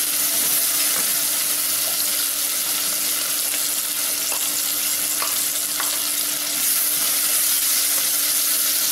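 Okra sautés with curry leaves in a pan, giving a loud, steady sizzle and fry crackle throughout, with occasional stirring clicks and a constant hum underneath.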